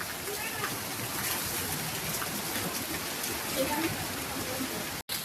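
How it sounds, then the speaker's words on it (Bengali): Heavy rain pours down in a constant dense hiss of drops striking surfaces nearby, with a voice speaking over it and a brief cut-out near the end. "দেখেন কি পরিমাণ বৃষ্টি নামতাছে, মানে ঝুম বৃষ্টি নামতাছে আর কি"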